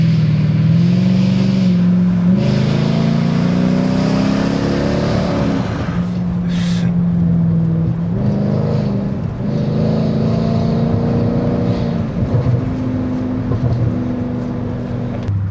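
A Mercedes-Benz W211 E500 with a V8 engine accelerates hard, its steady engine drone rising in pitch through the gears and staying loud and close from start to finish, with no voices over it.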